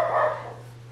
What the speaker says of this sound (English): Sorry about my dogs, there's somebody outside.